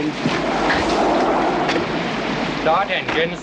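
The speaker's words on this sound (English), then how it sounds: "Start engines." Boat engines rumble steadily on the open North Sea, mixed with broadband wash of wind and water, with a short voice rising briefly near the end.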